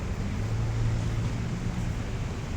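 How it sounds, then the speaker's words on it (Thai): An Alsthom diesel locomotive slowly accelerates toward the Yommarat level crossing near Hua Lamphong, a steady low engine drone with a rising hum, continuous and fairly close against wind noise. "นะเป็นอันสตอมนะฮะกำลังค่อยๆเร่งเครื่องเข้ามานะครับ"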